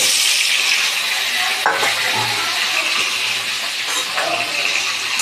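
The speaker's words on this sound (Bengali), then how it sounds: "পটলগুলো ভাজা হয়ে গেছে, তো এবারে আমি আলুগুলো ছেড়ে দেবো।" Potatoes frying in a pan over a low-to-medium gas flame, a steady sizzle and crackle with occasional stirring scrapes, close and continuous with no talk.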